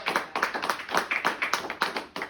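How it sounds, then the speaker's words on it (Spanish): Church congregation clapping together in a steady, lively rhythm of dense overlapping claps, fairly close and loud, with no talk over it. "Denle un aplauso a Cristo."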